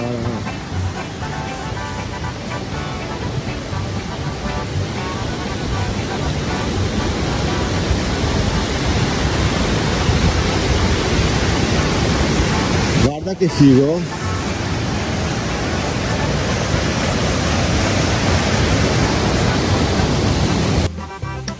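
Waterfall roaring from directly above in a mountain valley with potholes carved in the rock, a steady loud broadband rush filling the whole clip while a person talks over it.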